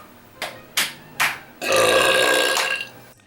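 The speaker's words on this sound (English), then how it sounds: "Bloated belly burps" Burps from a bloated belly: three short, sharp belches in quick succession, then one long, loud, drawn-out burp lasting over a second, close and clear with no talking.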